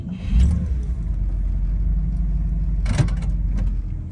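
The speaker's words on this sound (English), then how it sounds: "this is a test drive video for this 1958 Cadillac Eldorado Brougham." A 1958 Cadillac Eldorado Brougham on a test drive, its engine rumbling steadily and loud throughout, with a brief surge near the start and a sharp bump or clunk around the three-second mark.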